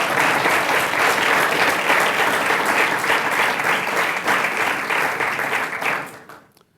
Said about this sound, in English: let's give them one more resounding applause here